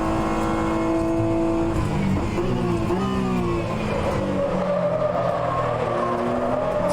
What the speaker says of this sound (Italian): Mi piace questo sibilo in scalata che fa il motore